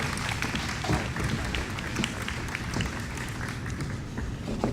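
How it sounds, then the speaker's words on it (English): Applause from a crowd at a New York mayoral press conference, a dense, steady patter of many hands that stays fairly loud and even throughout. "So, nice round of applause for the founders, Ed and Bernie Massey"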